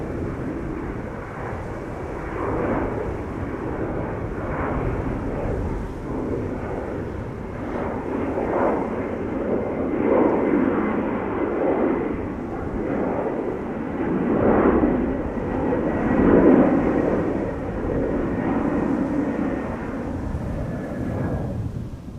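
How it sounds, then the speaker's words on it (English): An Airbus A330 takes off from the center runway, a sustained distant jet roar that rumbles and swells unevenly throughout, with no voices. "A330 taking off from center."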